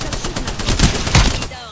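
Charge rifle fire in the video game Apex Legends, a rapid series of loud, punchy shots with heavier impacts in the middle and no talking over it.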